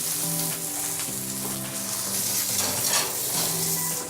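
Herb-stuffed chicken fries skin side down in a hot pan, giving a steady, close sizzle that runs unbroken for about four seconds beneath continuous tonal background sound.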